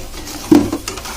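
Egg noodle masala is stirred in hot oil, with a short scrape of the spoon over a steady sizzle, close by.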